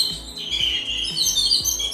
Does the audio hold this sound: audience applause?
no